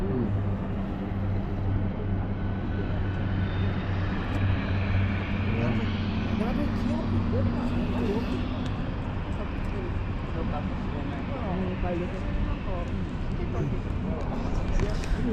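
A helicopter passes over Canada Place, the cruise ship port in Vancouver, as a steady distant engine drone under constant outdoor city and harbour noise, with people talking nearby.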